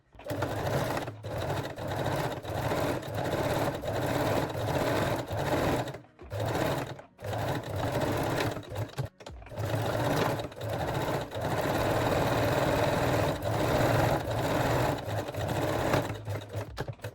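A sewing machine stitches a seam on a reversible ruffle bikini top with elastic, a loud, close, rapid mechanical whirr running in long stretches, broken by a few short stops and restarts.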